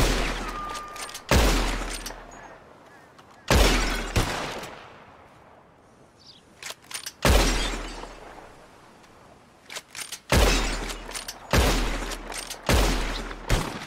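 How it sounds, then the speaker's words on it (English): Loud gunshots fire one after another while bottles are shot in the video game Red Dead Redemption 2. Each sharp blast leaves a long echoing tail, and the shots come in uneven, spaced bursts with no talking. "Whoever shoots more of these bottles wins. Just draw your gun and aim when you're ready,"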